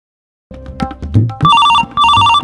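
A telephone rings during a Hindi comedy skit: two bursts of an electronic ringtone with steady bright tones, loud and close, following some brief indistinct household noise.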